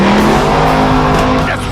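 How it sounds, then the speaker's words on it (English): Supercharged Hemi Ram 1500 Rumble Bee SRT pickup truck producing a loud, close engine roar with a rising harmonic whine and a hint of tire squeal, sustained for under two seconds. "This is the supercharged Hemi Rumblebee SRT."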